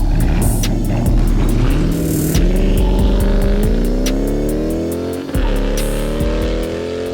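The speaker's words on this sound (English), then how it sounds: "This is my Dodge Charger Scat Pack wide body. It's big, it's loud, it's bright red." Dodge Charger Scat Pack widebody, bright red, with its engine running loud and steady close by, pitch rising and falling through several throttle blips and revs, no talk over it.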